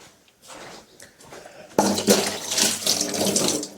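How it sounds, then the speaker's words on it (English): Hot water pours into a vessel, starting softly and then rising into a steady, loud rushing stream that runs on for about two seconds, close by with no talk over it. "I need to pour hot water inside."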